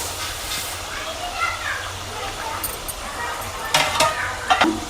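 Sugar stirred in a small pot on the stove, giving a soft hissing swish with occasional sharper scrapes and clinks of the spoon against the metal, and faint talk in the background.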